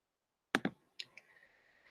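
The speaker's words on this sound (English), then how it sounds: "Sometimes you'll click and drag." A few sharp computer mouse clicks, two close together and then two lighter ones, heard up close in an otherwise quiet room.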